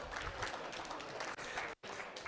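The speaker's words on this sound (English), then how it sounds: "Give yourselves a round of applause for that." A seated business audience applauds after a group activity, a dense, steady roar of clapping from many hands that briefly cuts out near the end before resuming.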